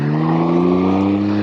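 A Can-Am Ryker three-wheeler's engine holds a loud, steady, close drone with strong harmonic tones while spinning around, with no voices.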